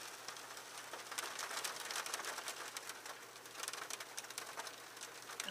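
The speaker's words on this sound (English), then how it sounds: "There's a bit of a hailstorm out there, sorry about the noise." Hail patters steadily outside during a storm, a dense, faint clatter of small impacts heard from indoors, continuous without any talk.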